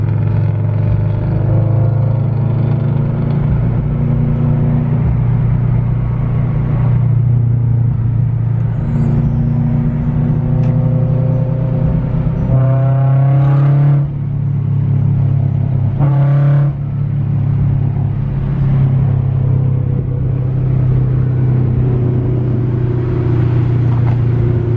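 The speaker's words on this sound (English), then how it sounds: "I'm about to be driving an FRS for a couple hours" Scion FR-S sports car driving along the road, heard from inside the cabin as a steady engine rumble with gear changes and rising revs, with no talking.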